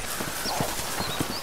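Horse hooves clip-clopping steadily at a walking pace in the Red Dead Redemption video game, a soft regular beat of hoofbeats with faint game ambience behind and no talk.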